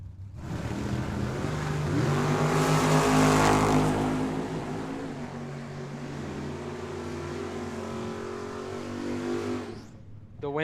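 A pair of blue Camaro drag cars launch at Tucson Dragway, engines roaring loud and building to a peak before a long sustained pull that fades away, heard alone without talk.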